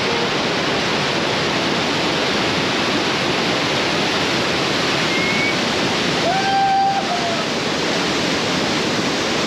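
Class 5 river rapids roar in a dense, continuous wash of rushing whitewater, loud and steady throughout, with a brief faint whistle-like tone near the middle.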